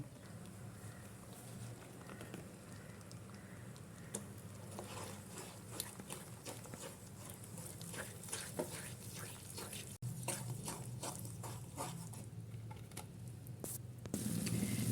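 Amrutham powder mix for Mysore pak is poured into hot sugar syrup and stirred constantly, giving a steady soft sizzle with repeated scraping and sloshing strokes throughout.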